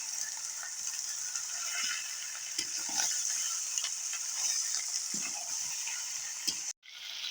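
Chicken pieces frying in a pan for chicken kosha while being stirred, a steady close sizzle with soft scraping knocks from the stirring utensil, continuous throughout with a brief dropout near the end.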